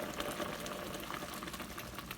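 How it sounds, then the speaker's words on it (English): Kale and sausage soup with heavy whipping cream boils in a pot, a dense, continuous bubbling and hissing that stays steady and close throughout. "We've got a nice boil going on."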